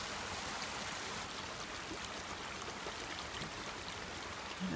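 Small forest creek beside a hiking trail in Olympic National Park, a steady broadband rush and trickle of running water that holds constant and close throughout with no voices.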